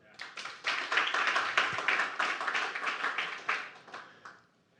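Audience applauding at a live comedy or talk event, a few seconds of scattered hand clapping from a small crowd, rising quickly and then dying away.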